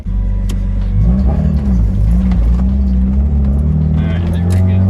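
A freshly refuelled go-kart engine runs close and loud, a steady throbbing rumble with slight revving swells throughout.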